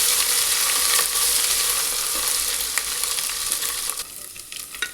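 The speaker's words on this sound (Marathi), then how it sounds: "त्यानंतर अद्रक लसूणची पेस्ट छान परतून घ्यायची।" Ginger-garlic paste sautés in oil with a bay leaf in a pan, giving a continuous close sizzle that softens slightly, with faint stirring scrapes toward the end.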